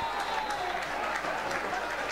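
A football stadium crowd applauds during a Rimini Calcio season, a steady, fairly distant wash of clapping and crowd noise with scattered sharper claps, while a commentator's voice talks over it.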